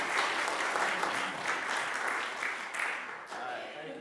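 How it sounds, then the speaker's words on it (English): An audience at a school talent show claps in a round of applause, a dense burst of many hands near and lively, tapering slightly toward the end with no one speaking over it. "Let's give them a round of applause."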